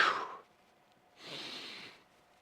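Someone breathes out during a dead bug core exercise, giving a short, soft, close breath and then a longer, steady airy exhale after a brief pause.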